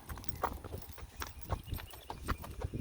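Hooves clip-clop on hard ground in an irregular walking rhythm, faint and somewhat distant, with low background noise.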